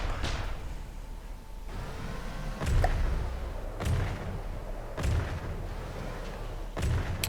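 Naval gunfire from warships in the game From The Depths, with a Flower-class corvette and its escort, booming as four or five heavy shots spaced about a second apart over a constant low engine and sea rumble.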